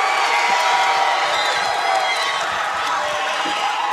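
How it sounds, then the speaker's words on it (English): Wrestling crowd at the Shrine Mosque erupting after a big slam takedown, a loud, sustained wall of cheers, whoops and clapping with scattered shouts throughout. "And the crowd uncorks here at the Shrine Mosque for Billy the Kid Wilson"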